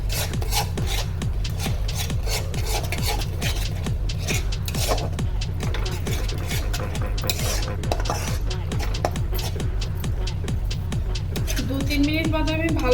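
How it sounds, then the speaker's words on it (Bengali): A spatula scrapes repeatedly in a pan as sliced okra for bhindi masala is stirred over a low flame, a steady rhythmic rasping with metal clinks, with a voice speaking in between. "এটিকে আমার লো ফ্লেমে 2-3 মিনিট মতো ভালো করে নেড়ে যেতে হবে"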